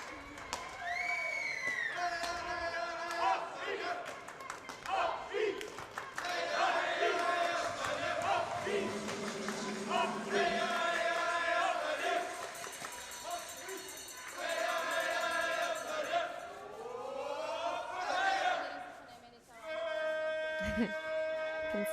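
At the 2015 World Junior Curling Championships, a women's playoff between Switzerland and Sweden, a crowd that includes boys cheering for the girls shouts and whoops. Commentary and players' calls run over the noise, which swells and fades in waves.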